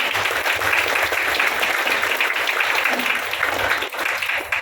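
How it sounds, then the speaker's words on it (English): Sustained crowd applause fills the hall at a foundation's 17th annual day celebration, a dense, steady roar of clapping from many hands that holds loud for several seconds before thinning slightly at the end. "Let's give it a round of applause."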